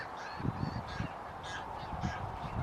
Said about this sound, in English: it's very noisy obviously with all the bird noise